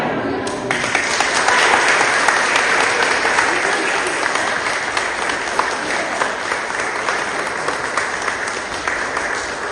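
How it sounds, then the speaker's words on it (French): Congregation at a Protestant Sunday service in Mertzwiller applauds a child, a full, loud and sustained burst of many hands clapping that fills the room and keeps an even intensity throughout. "je vous invite après moi à dire son prénom, Liam, et à l'applaudir"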